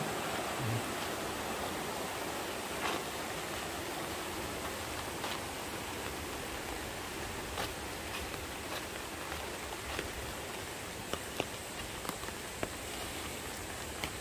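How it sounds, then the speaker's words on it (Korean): Steady rushing of a mountain valley stream near Guryongsa temple, South Korea, a constant broadband wash with faint scattered drips and splashes, no voices. "물살이죠."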